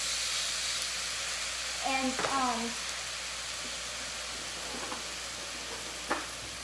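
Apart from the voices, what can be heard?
meat sizzling in pressure cooker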